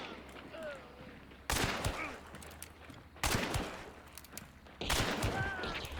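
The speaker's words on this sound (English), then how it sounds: "Like, 3 shots in a row, bang, bang, bang, perfect robotic accuracy." Three sharp gunshots ring out in Hunt: Showdown, spaced evenly about a second and a half apart. Each is a loud crack with a short tail, and a faint rumble of ambience fills the gaps.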